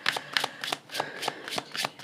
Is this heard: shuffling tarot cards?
yes